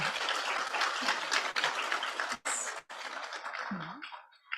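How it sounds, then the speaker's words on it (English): A conference audience applauds panelists at an air quality event, a dense wash of clapping that breaks off briefly twice and fades near the end. "So please, a round of applause for our panelists."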